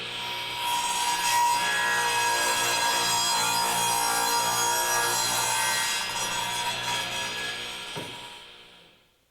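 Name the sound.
Craftsman radial arm saw making a 45 degree crosscut in wood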